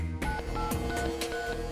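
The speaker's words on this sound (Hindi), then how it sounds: "यही नंबर मिलाया था ना तूने?" A telephone number being dialed by keypad: a quick run of separate DTMF beeps in an uneven rhythm, close and fairly clear, with no talking.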